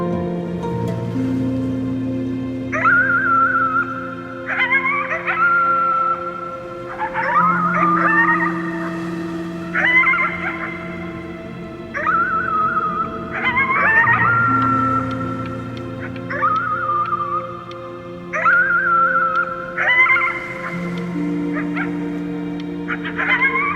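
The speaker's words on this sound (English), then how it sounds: "You howled at the moon, at the top of your lungs." A howling voice in the game Before Your Eyes, repeated long wavering howls rising and falling over a soft sustained musical drone, loud and near, with pauses between calls.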